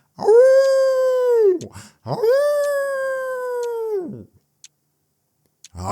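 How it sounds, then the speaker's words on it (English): Beastly howling in the Tsukihime visual novel game: two long, loud, wavering dog-like howls, each holding steady then dropping off, followed by a few faint clicks. "The beastly howling is beginning to give me a headache."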